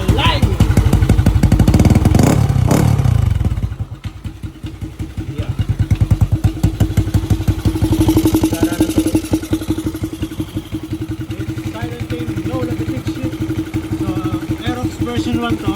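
A 200cc motorcycle engine on a stock ECU fires up and runs, a loud rapid clattering putter that settles into a steady idle, heard up close with someone talking over it.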